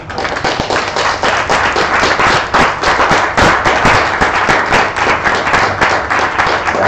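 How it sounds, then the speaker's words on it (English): An audience at a Cardano meetup claps steadily for several seconds, a dense, loud round of applause with sharp individual claps, with no one speaking over it. "Give these two guys a round of applause,"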